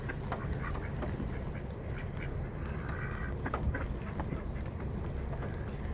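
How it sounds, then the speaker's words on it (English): City ducks quacking near a parked car, short calls scattered over a steady low rumble of urban background noise, fairly close and moderately loud. "Ducks in the city."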